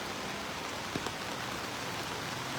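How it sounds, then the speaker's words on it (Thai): Steady rain falls continuously during a wet early morning at the start of the rainy season in Nan, a dense even hiss of drops on surfaces with no voices. "อันนี้ฝนยังตกต่อเนื่องตลอดเลยนะคะฝนตกตลอดตอนนี้"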